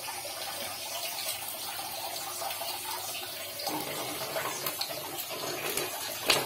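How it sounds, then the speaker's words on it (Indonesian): Water poured slowly from above over moss in a paludarium, a steady close trickle and splash like a running tap that swells slightly toward the end, with no voices. "maka kita alirkan air sedikit demi sedikit."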